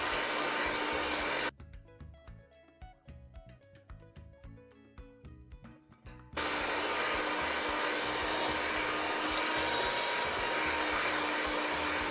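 An electric stand mixer beats molasses into gingerbread cake batter with a loud steady whir, stops for a few seconds of quieter clinking and handling, then starts up again at full volume.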